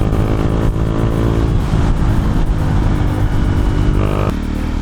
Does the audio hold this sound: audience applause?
no